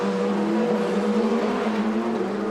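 A Toyota endurance prototype passing during the 6 Hours of Bahrain, a sustained steady engine drone with a faint falling pitch, heard at a moderate distance alone for a few seconds.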